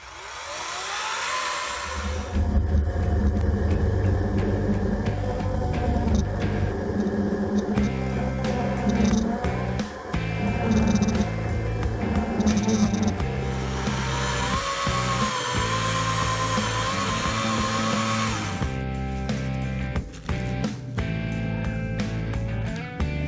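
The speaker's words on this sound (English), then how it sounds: "Then the felling cut." A Greenworks chainsaw makes the felling cut on a tree, a steady loud motor whir running almost continuously with small dips in load as the chain bites, heard up close with no speech.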